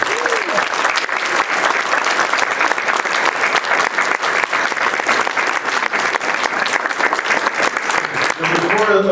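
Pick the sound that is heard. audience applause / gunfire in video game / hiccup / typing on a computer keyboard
audience applause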